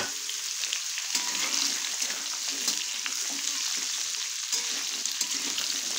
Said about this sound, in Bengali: এবার এর মধ্যে আমি দিয়ে দিচ্ছি গাজর আর আলু আর গাজরটাকে একটু করে ভেজে নেব।